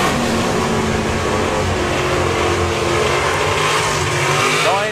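A drag racing car's engine roars loud and dense at a drag racing festival, its harsh, blaring tone pulsing as the throttle is worked on and off through the whole stretch.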